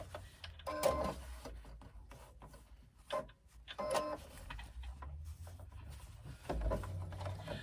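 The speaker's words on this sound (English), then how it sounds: "Flip it over and stitch with a 1/4 inch to 3/8 inch seam." A sewing machine stitching a backpack seam, heard as quiet, uneven runs of mechanical tapping and whirring. Short bursts alternate with pauses while the fabric is repositioned, and no one talks.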